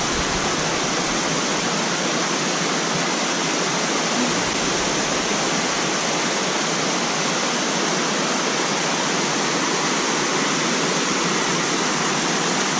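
Wang Kan Lueang waterfall in Lopburi during the rainy season, a steady broadband rush of water pouring through forest, loud, close and constant with no voices.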